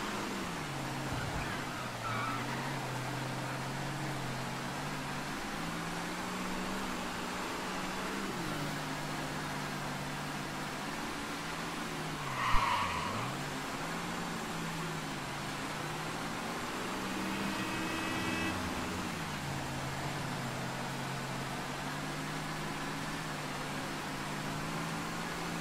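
Car driving in Mafia 3, with a steady engine drone and road hum running throughout, rising and falling gently with speed, plus one brief click midway.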